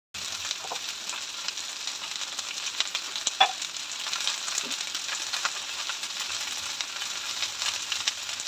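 Vegetables with turmeric, chili powder and salt sauté in hot oil, giving a steady soft sizzle throughout with occasional faint clicks and stirring taps.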